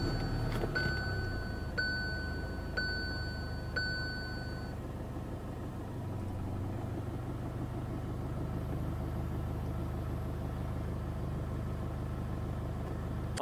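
A car's interior chimes repeatedly as the engine restarts, then settles into a steady low idle rumble heard from inside the cabin.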